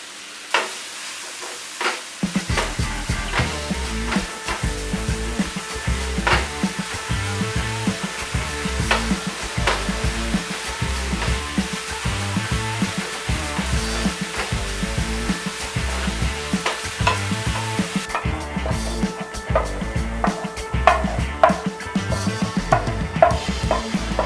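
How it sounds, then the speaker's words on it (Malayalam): Carrot and cabbage seasoned with salt, stir-frying in vegetable oil, with steady close sizzling and repeated rhythmic scraping and tossing of the pan throughout, alone without any talk. "ക്യാരറ്റും ക്യാബേജും ഉപ്പ് കൊണ്ട് സീസൺ ചെയ്തിട്ട് നമുക്കിത് വെജിറ്റബിൾ ഓയിലിൽ സ്റ്റിർ ഫ്രൈ ചെയ്തെടുക്കാം"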